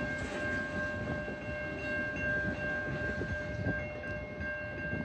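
A short CN 438 freight train hauling four tank cars rolls past close by, a steady rumble of wheels on rail lasting throughout, with a sustained horn tone in the background.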